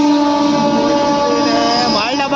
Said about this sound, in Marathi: हा बघा, माल डबा आलाय, माल डबा.